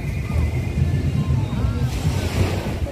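Ocean waves wash onto a beach in a steady broadband roar, joined by wind noise buffeting the microphone, with voices faintly talking underneath.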